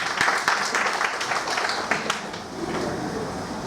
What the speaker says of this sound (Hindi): जोरदार ताली बताइए, उनका नाम आया